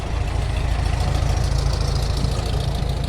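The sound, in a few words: 1966 Volkswagen car engine idling at rally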